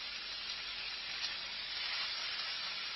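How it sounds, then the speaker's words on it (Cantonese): Pork pieces searing in a hot pan, a steady close sizzle and hiss holding evenly throughout at moderate level. "燒熱一個 pan， 將啲肉咁樣擺落去，煎佢4邊"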